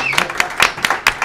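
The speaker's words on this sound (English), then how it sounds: "Let's give a round of applause for Ted" A brief burst of audience applause for Ted Sandoval at a live show, with a few sharp, close claps ringing out over a voice.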